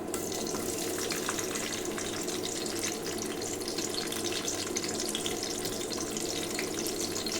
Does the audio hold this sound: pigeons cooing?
no